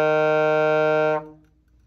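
A single sustained low note on an alto saxophone is held clearly for just over a second and then stops, leaving a short fading tail, with no talking.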